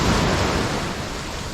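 Steady broadband wash of sea waves breaking at Punta Esmeralda beach in Mexico, a continuous close roar of surf with no voices.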